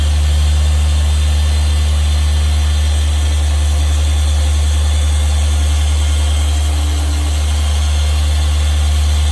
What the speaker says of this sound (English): I'm only polishing with about this much of the polisher